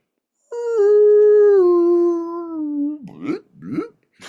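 A whale call is sped up four octaves on a sampler keyboard and sounds like a loud, clean, sustained tone that steps down in pitch, followed by two short chirping bursts.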